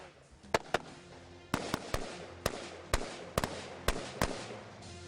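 Tactical carbine shots crack out at a range in a series of about a dozen sharp, loud reports at uneven intervals, each followed by a short echoing tail.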